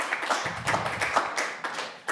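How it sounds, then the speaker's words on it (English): An audience at a live art startup pitch event applauds in a brisk round. The clapping is close and steady, with sharp overlapping claps lasting about two seconds. "Let's give the Cultural Centre a big round of applause."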